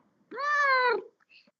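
A cat meows once loudly and close by during a council meeting livestream, a long drawn-out call followed by a faint short chirp.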